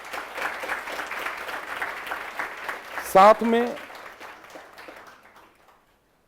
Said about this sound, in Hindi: उसके लिए एक बार ताली बजाओ